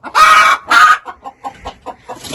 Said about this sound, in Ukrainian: У нас уже кури посідали, вони возмущаються.